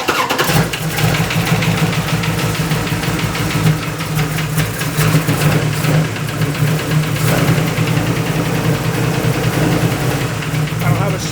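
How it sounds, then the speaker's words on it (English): A truck's stroker engine fitted with Holley carburetors cranks and catches, then settles into a loud, rough, pulsing idle close by, with a voice talking over it. "So I'm gonna turn the truck on."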